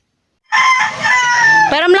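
A single loud, close crow from a fighting rooster, rising and holding before breaking into a wavering, falling finish, with nothing else heard alongside it.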